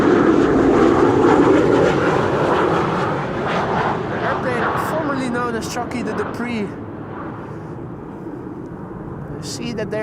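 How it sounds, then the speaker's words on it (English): A business jet takes off from Amsterdam Schiphol Airport on a frosty, sunny day, its engine roar loud at first and then fading and dropping in pitch as it climbs away, while someone talks over it. "BizJet just took off"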